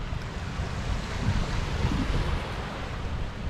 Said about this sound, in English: Not sure if the GoPro's picking it up where the waves are just lapping